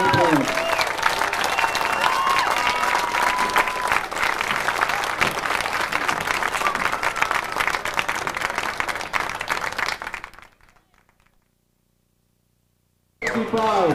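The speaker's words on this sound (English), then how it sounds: "One round of applause for the senior cheerleaders," Crowd applause for senior cheerleaders and football players at a high school varsity football game, steady dense clapping and cheering for about ten seconds before cutting to silence, then resuming abruptly near the end.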